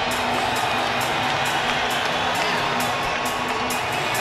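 An arena crowd at a boxing match between Arturo Gatti and Leonard Dorin cheers and whoops in a dense, sustained roar, loud and unbroken throughout.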